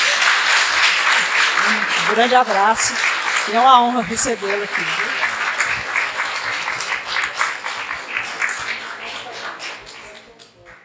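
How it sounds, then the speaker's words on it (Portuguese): An audience claps in a long, dense round of applause that slowly fades, while someone speaks over the start of it. "eu acho que você merece uma salva de palmas"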